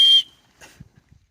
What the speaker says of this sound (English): I've even got an emergency whistle